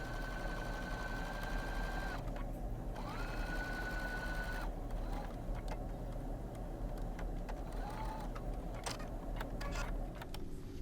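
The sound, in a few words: sewing machine back stitching a kitchen towel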